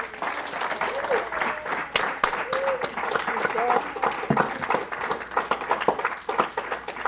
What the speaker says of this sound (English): let's give Melina a round of applause.